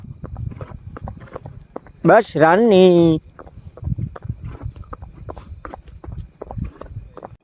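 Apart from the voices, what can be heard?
mare walking at night, hooves clip-clopping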